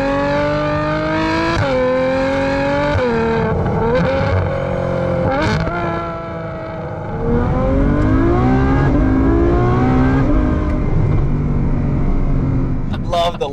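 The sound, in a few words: Ferrari F12 widebody with stock engine accelerating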